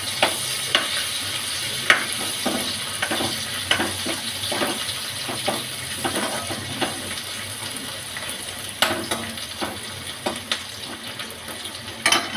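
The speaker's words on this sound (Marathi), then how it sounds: "आपण याच्यामध्ये आता 2 उभे हिरव्या मिरच्या कापलेल्या टाकून घेऊ आणि अद्रक लसूण कुटून घेतलेला टाकू आणि मिक्स करून घेऊ" Slit green chillies and crushed ginger and garlic frying with onions in a pan, a steady close sizzle broken by regular scraping and clacking stirs.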